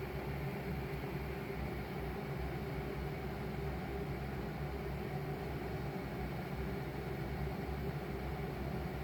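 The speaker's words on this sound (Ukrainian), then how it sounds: "І ось шум, який видає станція, це шум від 60-мм вентилятора" A constant whirring hum from the 60 mm cooling fans of an Oukitel P2001 Plus portable power station, close and steady, with no change in pitch or level throughout.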